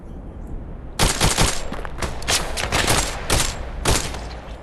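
Gunfire in the VR shooter game Tactical Assault VR: a rapid burst of sharp rifle shots, with several quick clusters and single cracks over a couple of seconds, fairly close and loud over a low background hum.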